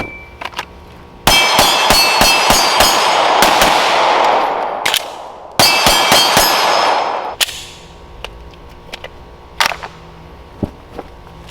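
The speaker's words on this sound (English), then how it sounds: "we can just blow our shirt apart by popping all those buttons and get right to our gun" Pearl snap buttons on a shirt ripped open in quick bursts, each burst a rapid string of loud, sharp snaps with a brief metallic ring, followed by scattered fainter clicks.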